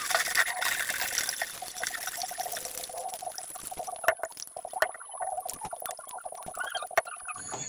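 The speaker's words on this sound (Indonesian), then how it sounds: "masukkan air pertama sebanyak 100 ml. Aduk hingga melarut." About 100 ml of water is poured onto potassium hydroxide in a heat-resistant container and stirred to dissolve it, giving a close, continuous trickling pour followed by faint sloshing and a few light taps.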